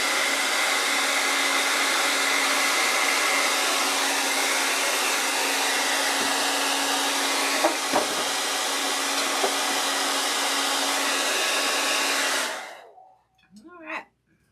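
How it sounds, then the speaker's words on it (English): A hair dryer blowing at a steady loud whir for about twelve seconds, then switching off and winding down, followed by a brief faint sound. "Sorry about the hair drying off."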